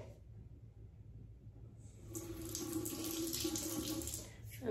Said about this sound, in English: Start off with just washing my face.